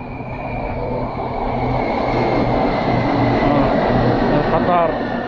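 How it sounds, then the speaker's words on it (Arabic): A BTS Skytrain in Thailand rolls along on the new Blue Line, a loud continuous rumble and whine of the carriage with a steady tone. The noise is heard from inside the car, and no one speaks. "القطار."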